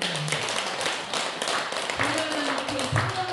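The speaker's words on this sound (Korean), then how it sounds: "박수." Applause at a religious festival gathering, a scattered, fairly dense patter of clapping under a brief spoken voice, heard close in a hall.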